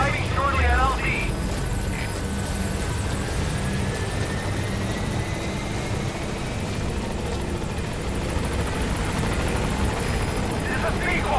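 The Pequod helicopter in Metal Gear Solid V arrives at a landing zone, its rotor thudding and turbine whining in a loud continuous drone, with a brief radio voice at the start.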